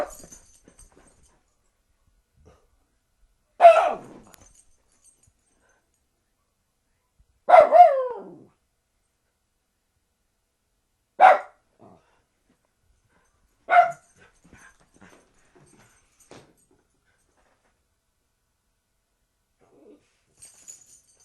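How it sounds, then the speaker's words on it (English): A single dog barks four times in sharp, loud, isolated bursts spaced several seconds apart, with near silence between them. "That's my dog barking."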